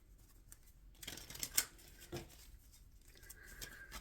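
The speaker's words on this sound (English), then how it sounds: "I am going to shuffle for the concluding messages for my Gemini collective." Tarot cards being shuffled during a reading, with soft rustles and a few sharper riffling snaps, quiet and close, with no voice.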